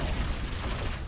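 Rapid gunfire in the team shooter Overwatch, a steady, dense volley of shots filling the whole moment, loud and continuous with no pauses and no talking.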